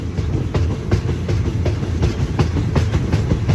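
Thai passenger train 445 rolls along the rails between Lang Suan and Surat Thani, its steady rumble broken by regular clickety-clack wheel beats over rail joints, heard loud from aboard with no talking.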